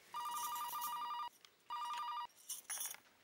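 A household telephone rings late at night in two long bursts of bright, rapid trilling, separated by a short pause, then gives a few broken partial rings at the end.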